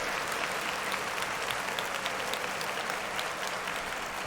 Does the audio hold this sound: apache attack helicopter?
no